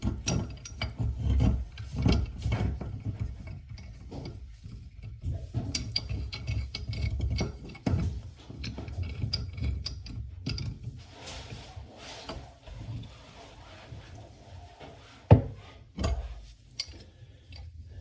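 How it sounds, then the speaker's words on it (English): A pipe wrench tightens a sink drain pipe during a slow-draining sink repair, giving irregular close clicks, scrapes and rubbing creaks of metal on the fitting, with no voices. "take your pipe wrench, tighten it down so we don't have any leaks"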